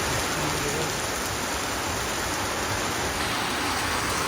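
Steady rain falling and splashing on surfaces outdoors, a continuous dense hiss holding even throughout with no other sounds.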